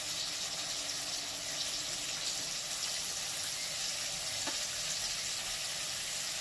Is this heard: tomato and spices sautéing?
yes